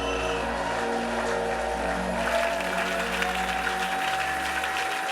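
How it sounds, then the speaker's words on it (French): A church congregation at a Kinshasa-style worship service applauds continuously, a dense sustained roar of clapping that fills the room at a steady loud level throughout. "Acclame pour toi-même."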